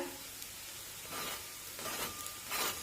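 Omelette frying in hot oil in a pan gives a steady, soft sizzle with faint crackles, swelling slightly in a few hissing bursts as the cooking goes on, with no talking.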